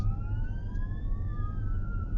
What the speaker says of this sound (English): Oh, it's ambulance, it's not police.